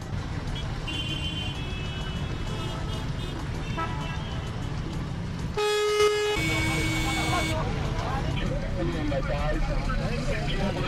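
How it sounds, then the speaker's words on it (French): Car horns honk amid a traffic jam on a Cameroonian street, with a loud sustained blast in the middle over a constant engine rumble, and voices talking throughout. "Un concert de klaxons qui peut arrêter net le cœur d'un cardiaque."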